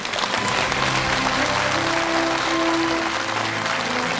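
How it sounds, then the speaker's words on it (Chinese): Studio audience applause on a Chinese television talk show as a guest official is welcomed on stage, dense steady clapping that fills the room at even loudness throughout, with no voices over it. "那么接下来让我们掌声有请。"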